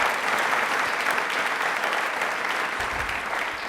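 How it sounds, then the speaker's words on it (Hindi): A studio audience at a DD Rajasthan Independence Day special quiz show claps in a dense, steady wash of applause that holds at an even level throughout with no break. "सब तालियां आपके लिए बजा रहे हैं"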